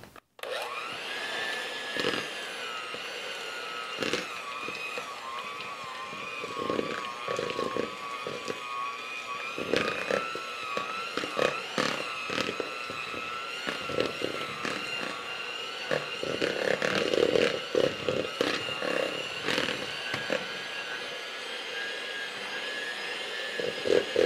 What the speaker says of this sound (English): Then I'm going to add in my cream cheese and beat this up really good.